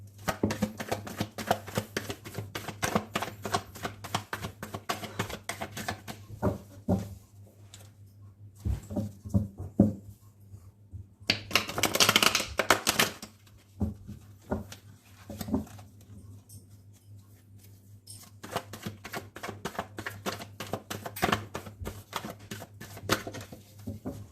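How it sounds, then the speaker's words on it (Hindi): Tarot cards being shuffled by hand in rapid, crisp riffling bursts with clicking flicks, pausing briefly between rounds, close and steady throughout with no speech. "कार्ड्स को शफल करना शुरू करते हैं"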